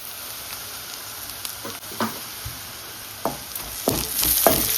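Small pieces of chopped ginger fry in hot tempering oil, giving a soft, steady sizzle with occasional crackles and stirring scrapes that grow a little louder toward the end. No one speaks.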